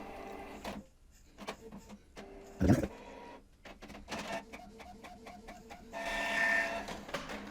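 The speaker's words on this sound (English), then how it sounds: "Evidently, this is the cleaning sound I'm talking about." Mechanical whirring and rhythmic clicking of an inkjet printer's cleaning cycle, with repeated short motor pulses and a louder hiss near the end.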